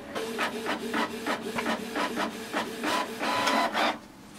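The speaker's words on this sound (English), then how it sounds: "Wait for the print to come out." Canon TS3322 inkjet printer printing a page, a rhythmic series of raspy mechanical passes and clicks repeating roughly every quarter second, close and steady, then stopping near the end.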